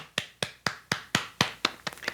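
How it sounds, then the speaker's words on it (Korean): Eight or nine sharp, evenly spaced claps ring out in a church congregation during a Wednesday worship service, each one crisp and distinct, slowing slightly near the end with no voices over them. "우리 하나님께 감사의 박수 드리겠습니다"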